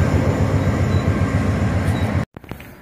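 A CSX freight train rumbles past close by with a steady, loud, rhythmic clatter of wheels, then cuts off abruptly into quieter background noise.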